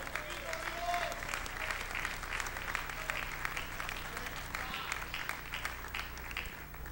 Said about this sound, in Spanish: Ese aplauso para el Señor.